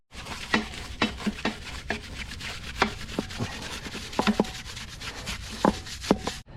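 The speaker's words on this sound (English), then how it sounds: "Let's keep scrubbing and see what happens." A brush scrubs a car wheel coated in Dark Fury wheel cleaner, giving close, irregular rubbing strokes with short scraping bursts, quiet and without speech.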